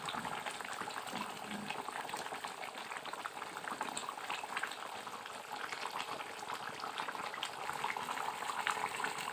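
Chicken chaap gravy simmering in a pan while being gently stirred, a quiet, continuous bubbling fizz that holds steady throughout, close but low in level, with no talking.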